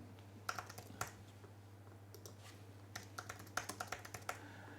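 Computer keyboard typing while entering text into a WordPress Gutenberg table, with irregular bursts of close, quiet key clicks and short pauses between them.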